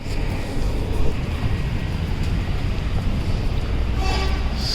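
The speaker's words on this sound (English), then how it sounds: "They call it metro or railway, but I call it a tram." A Mauritius metro tram runs along a street-level line, a loud, steady rumble and rolling roar heard from close by, with a faint higher tone rising near the end.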